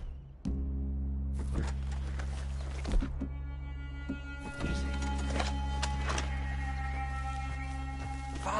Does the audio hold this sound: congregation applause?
no